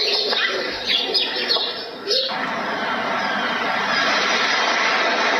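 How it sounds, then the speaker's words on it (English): Steady broadband wash of ocean waves rolling onto a sandy beach, with a few short seagull squawks and calls near the start, fading into continuous roar. "I can feel the seagulls in the background, and I can feel the ocean waves hitting against the sand"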